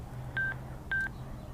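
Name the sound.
Sena 20S Bluetooth headset connection beep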